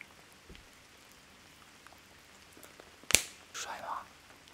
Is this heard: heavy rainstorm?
yes